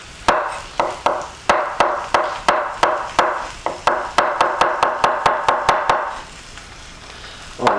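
A knife chops mushrooms on a cutting board in a steady series of crisp, close knocks, speeding into a rapid even rhythm before stopping, with no talking.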